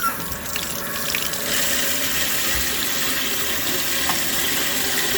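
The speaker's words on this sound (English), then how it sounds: "now let's start up the high flow" A kitchen sink faucet with its strainer removed runs hard at high flow, a loud, steady close rush of water that holds unbroken throughout.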